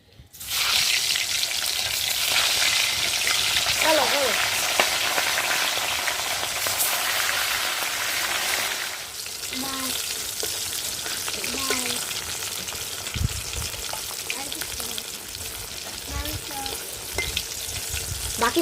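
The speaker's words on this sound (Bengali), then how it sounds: "একই তেলে বাকি মাছগুলো ভেজে নেব।" Small hilsa fish frying in hot reused oil, a steady loud sizzle and bubbling throughout, with occasional stirring and clinks, no talking.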